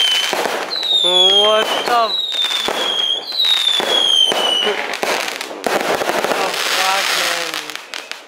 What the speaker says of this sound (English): The firecrackers is non-stop firing.